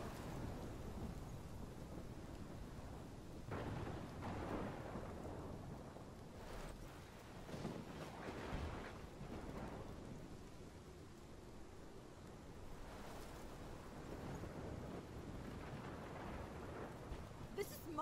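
Rain pours steadily with deep rolling thunder swelling and fading in a thunderstorm from the video game Life is Strange, a faint, continuous wash with no voices on top.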